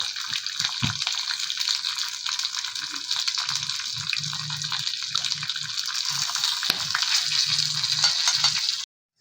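Green chilies sizzle steadily in hot oil for a Bihari dal pithi dish, a dense continuous frying hiss with faint low clinks and stirring bumps underneath, close and fairly loud, no talking.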